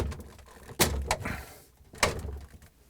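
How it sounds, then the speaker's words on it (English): A Samsung refrigerator vegetable drawer rail is pushed in and snapped into place, giving two sharp, close plastic clicks or knocks with sliding rustle between them. "push it in, and then the front push down so those two tabs will lock."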